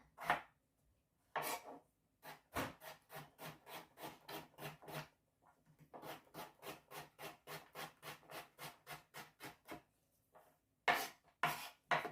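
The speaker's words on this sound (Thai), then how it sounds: "เราก็จะมาหั่นมันฝรั่งกันให้เป็นชิ้นเล็กๆก่อนนะคะ หั่นมันฝรั่งให้เป็นชิ้นเล็ก ๆ" A knife cuts potatoes into small pieces on a board, making quiet, quick, steady chopping strokes in long rhythmic runs broken by short pauses, close up with no voices.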